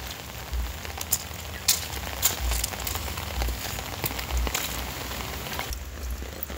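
Rain falling steadily on surfaces, a soft continuous patter with scattered sharper drop hits, moderately quiet, with no voices.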